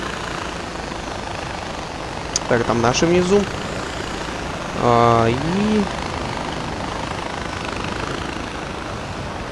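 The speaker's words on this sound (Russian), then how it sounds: "Ну, будем считать, что это аэроплан. Мини-вертолетик." A mini helicopter in the video game Far Cry 4 drones steadily with a constant rotor and engine hum throughout, while someone talks over it in short bursts.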